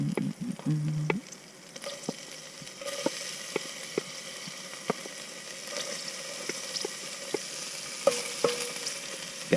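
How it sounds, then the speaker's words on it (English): Garlic and ginger fry in hot oil inside a van kitchen with a constant soft sizzle, broken by light taps and scrapes of stirring, a louder clatter at the very start. "I can fry off the garlic and ginger."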